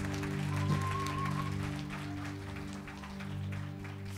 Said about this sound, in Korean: 모든 문제를 끝내신 하나님께 영광의 박수 같이 드리시겠습니다.